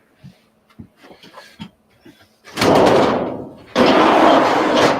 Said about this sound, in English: Close that door again.